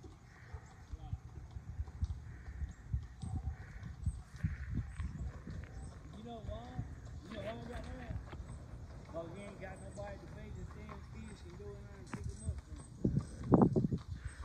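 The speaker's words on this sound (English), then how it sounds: "There's a horse carriage coming." A horse-drawn carriage approaching along a road near a railway line, its hooves clip-clopping in a steady rhythm that grows closer, mixed with people talking and outdoor background noise.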